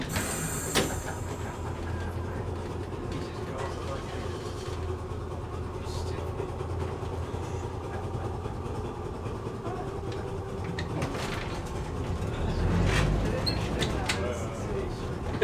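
Christchurch tram rolling along its tracks, a steady low rumble and rattle running throughout with a brief louder clunk near the end, and voices talking faintly underneath.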